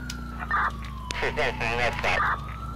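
An ambulance siren in GTA IV wails in a steady, slightly falling and rising tone over a low engine drone, with short bursts of other sounds and a voice in the background.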